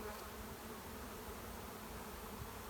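Honeybees buzz around a hive during spring preparation, a dense steady drone of many insects close by, faint overall and unbroken, with no talking.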